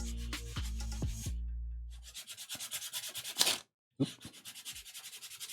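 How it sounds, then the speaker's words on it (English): Veg tan leather being sanded for a clasped wallet, giving a run of quick rasping strokes after a low thump at the start, with a brief pause partway through before the rhythmic rubbing resumes up close. "So we're gonna sand here."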